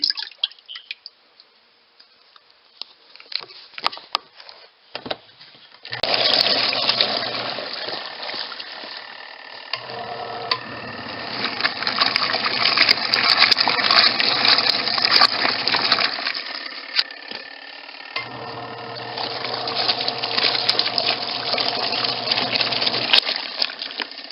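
Tide laundry detergent poured into a washing machine, a close, steady liquid splashing and trickling that starts after a few quiet seconds and runs on over a low machine hum, with brief pauses.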